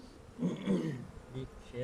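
Honeybees crowd densely over a hive frame during a beekeeper's hive inspection, a low droning buzz swelling and easing, faint and close, with a voice murmuring under it.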